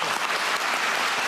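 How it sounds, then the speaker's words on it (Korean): A room full of people bursts into steady, dense applause at a town hall meeting on developing northern Gyeonggi Province, attended by the provincial governor, the clapping a brief, close, uniform wash with no voices. "박수 한번 부탁드립니다"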